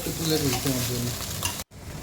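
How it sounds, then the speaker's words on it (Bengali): Egg frying and being stirred with a spatula in a pan, for an aloo dim dal recipe: a steady close crackling sizzle with scraping strokes, cut by a brief dropout near the end before the sizzle resumes more faintly. "ডিমটা দিয়ে একটা খুন্তির সাহায্যে আমি ভালোভাবে একটু নেড়ে ডিমটাকে একটু সুন্দরভাবে ভেজে নেব"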